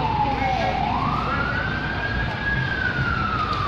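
Fire engine sirens wail, rising and falling slowly over a constant roar of traffic at a church fire in Quezon City, loud and sustained throughout.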